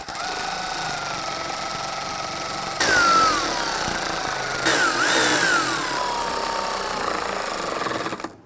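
A power tool snugs down the grille screws on a 1994-2004 Ford Mustang, giving a close whirring motor tone with two separate bursts that rise and fall in pitch over a steady background hum.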